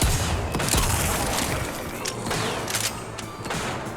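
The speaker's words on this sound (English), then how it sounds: "he's actually shooting over at me" Gunfire in the video game TimeSplitters Rewind, a dense, continuous barrage of rapid shots and booms that fills the whole stretch at close range, with no break in the shooting.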